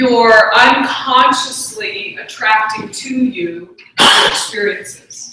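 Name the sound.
sneeze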